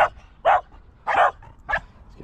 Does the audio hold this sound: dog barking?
yes